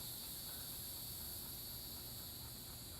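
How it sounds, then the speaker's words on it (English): A continuous, dense chorus of high-pitched crickets chirps steadily, faint and distant, with no break or voices. "These crickets are really loud."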